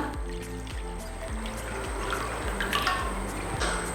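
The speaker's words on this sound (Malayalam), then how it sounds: "ഇതിലോട്ട് നമ്മൾക്ക് കുറച്ച് വെള്ളം ആഡ് ചെയ്ത് കൊടുക്കാം" Water pours steadily into a bowl, a continuous splashing trickle with small repeated gurgles, close by and fairly quiet.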